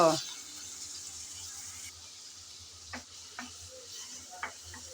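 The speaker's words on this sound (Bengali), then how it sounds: "আমি আগে একটু চিংড়ি মাছ বেজে নিচ্ছি" Salted, turmeric-coated prawns fry in a pan, a quiet, even sizzle with a few light taps and stirring clicks toward the end.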